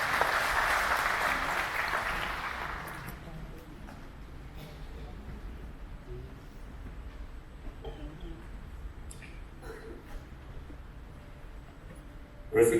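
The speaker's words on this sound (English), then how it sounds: "Everybody, please put your hands together and give him a round of applause." Audience clapping at a chartered engineers' inauguration ceremony, a loud burst of applause at the start that quickly fades, leaving a quiet hall with scattered small noises.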